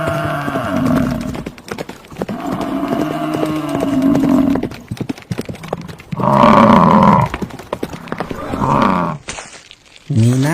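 A pet buffalo named Meena lowing in long, loud, close moos, with a clatter of hoof-like knocks between calls and a voice speaking partway through.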